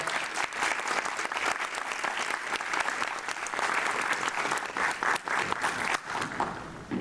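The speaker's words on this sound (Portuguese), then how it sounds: "Salve de palmas." Sustained audience applause at an opening event, dense clapping from a large crowd that stays steady and fairly loud for the full duration, with no talking over it.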